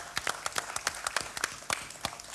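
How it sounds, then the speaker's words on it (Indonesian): At an official Indonesian ceremony on disaster response, a small group claps in quick, scattered bursts, moderately near, with distinct individual hand claps over a low room murmur. "Boleh minta tepuk tangannya sekali lagi dong."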